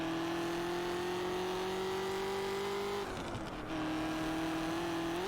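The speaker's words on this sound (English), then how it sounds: "I still love changing gears in this car." Ford GT engine in the racing game Test Drive Unlimited, a sustained high rev that climbs steadily, then cuts briefly on a gear change and resumes at a lower pitch, loud and continuous with no talk.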